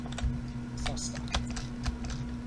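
Computer keyboard typing during a Minecraft session, quick irregular key clicks in short bursts, close and fairly quiet over a steady low hum.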